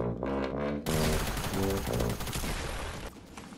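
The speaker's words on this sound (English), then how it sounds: "Ooh, gunshots." Rapid bursts of gunfire in Fortnite crackle loudly over layered game audio and music, dense and continuous before easing near the end.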